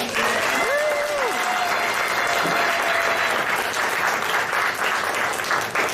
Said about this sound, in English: Let's have a round of applause for the heroes of legend!